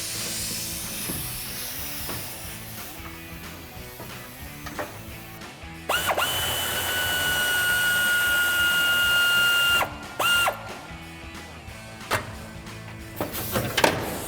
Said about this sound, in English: we've got our 1/4 inch ratchet with a 10 millimeter swivel socket on it